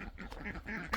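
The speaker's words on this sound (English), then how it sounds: "the ducks are acting crazy, of course" Ducks quack in a busy, overlapping chatter outdoors in a front garden, several birds calling close by at fairly steady loudness with a sharper call at the end.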